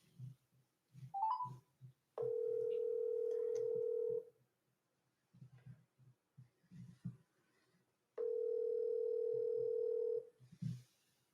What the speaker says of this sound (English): I'm dialing her number already